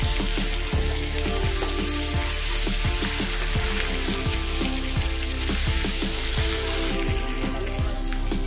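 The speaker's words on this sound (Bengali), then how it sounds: "এবার এর মধ্যে দেব আদা রসুনের পেস্ট। ভালো করে নেড়ে নেব।" Ginger garlic paste and green chillies frying loudly in oil in a pan, a dense crackling sizzle with spattering pops and occasional stirring, heard up close.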